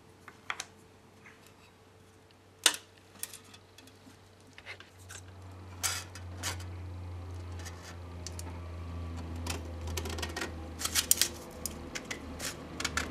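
Scissors snipping through a thin metal membrane for a homemade pop-pop engine, scattered sharp cuts and small clicks at close range over a low steady hum, growing busier toward the end.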